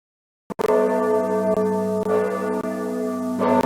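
Church bells ring in the tower of Notre Dame in the 1996 PC game The Secret of the Hunchback. Heavy, sustained peals start abruptly after a brief silence, loud and close, with repeated strikes blending into a rich, continuous ringing.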